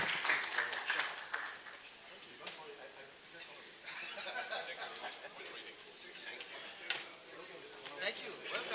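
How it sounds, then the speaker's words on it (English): Conference audience applause for panel members in a large hall, a faint, steady patter of many hands clapping with scattered louder claps and a few quiet chuckles. "give a big round of applause to panel members"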